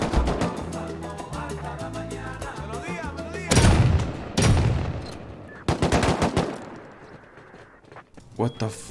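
AK rifle fire in the game Rust, with loud bursts of rapid shots and several separate volleys after music and game sounds, close and harsh.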